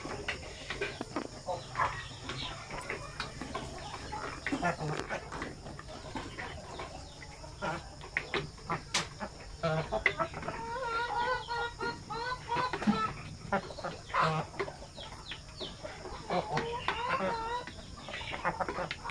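Shamo Asil chickens cluck repeatedly inside a coop holding breeders in a one-to-five setup, with busy, steady bird calls throughout and occasional louder squawks standing out from the flock.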